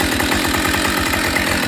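A Husqvarna 572XP chainsaw engine runs steadily at a fast, even beat, loud and close, with no voices.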